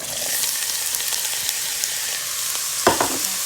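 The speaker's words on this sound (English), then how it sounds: "You can hear my pot is not too hot. So it's sizzling, but it's not gonna start burning right away." Oil sizzles steadily with onions in a pot over medium heat while braising oxtails, a continuous close crackling hiss with a couple of louder stirring scrapes near the end.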